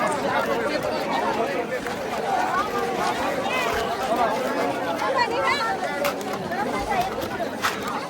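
A dense crowd of pilgrims at the Palkhi procession of Sant Dnyaneshwar Mauli on Dive Ghat, with steady outdoor chatter and hubbub all around. A nearby voice talks over it throughout.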